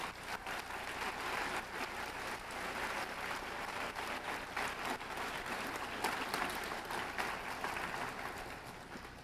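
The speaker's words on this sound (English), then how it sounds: "you can clap for them" An audience at the 2015 National Science Bowl high school championship claps for volunteers, a dense, steady round of applause sustained for several seconds at even loudness.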